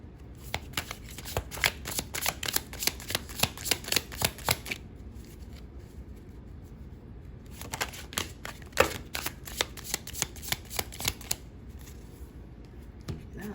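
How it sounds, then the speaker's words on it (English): Tarot cards shuffled during a pick-a-card reading: two bursts of rapid riffling flutter, each several seconds long, with a pause of low room noise between them, near and moderately loud with no talking. "Let's go ahead and pull a few more cards."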